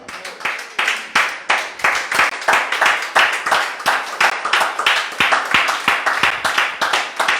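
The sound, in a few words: congregation applauding to acclaim the Lord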